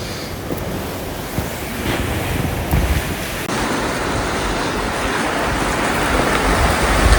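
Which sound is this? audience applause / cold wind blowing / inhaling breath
cold wind blowing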